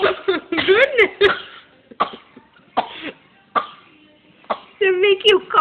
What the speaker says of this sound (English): Did it make you cough? Laughing so much?